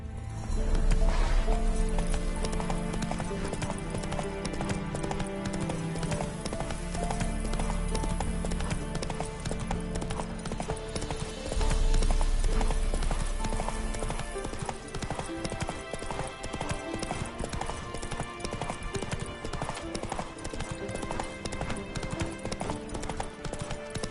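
Horse hooves galloping in The Witcher 3 video game: a continuous rapid clip-clop of hoofbeats runs under loud layered game music throughout.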